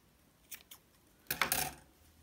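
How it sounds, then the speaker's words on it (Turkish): Crochet yarn cut on a baby girl's romper: two light, quick snips followed by a denser burst of snipping and rustle, close and fairly quiet, with no voices. "İpi kesiyorum."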